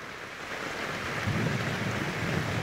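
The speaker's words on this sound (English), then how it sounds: "It has been raining almost nonstop." Heavy, nearly nonstop rain pours down around a flooded yurt on a July night, a dense steady hiss joined partway through by a low, rolling thunder rumble.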